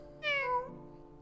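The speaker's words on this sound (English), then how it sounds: "You follow the cat around the palace until she falls asleep in a sunbeam." A cat meows once in the video game Reigns: Her Majesty, a clear, close, rising-then-falling call over a faint steady background hum.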